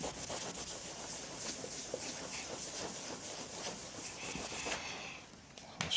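Steady scratchy rubbing and sanding on the surface of an old, neglected metal fuel tank, a continuous rough abrasive texture with rhythmic strokes, close and moderately loud, easing briefly near the end.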